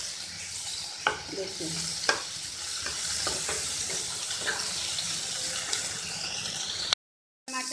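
Tomatoes softening in a pan for stuffed parwal filling give a steady, close sizzle, punctuated by a few sharp scrapes of a spoon stirring; a short burst of talk comes near the end before a brief gap.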